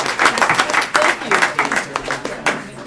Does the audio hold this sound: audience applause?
yes